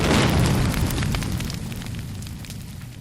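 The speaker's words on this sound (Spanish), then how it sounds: "una explosión de la que pareciese que nadie podría salir vivo" A loud special-effects explosion for a TV show. One big blast at the start gives way to a long, rumbling, crackling decay that fades over a few seconds, with no voices.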